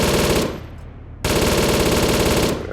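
Sustained automatic gunfire in the military shooter ARMA 3, a dense rapid-fire stream that dips briefly before resuming at full loudness, close and continuous with no talking.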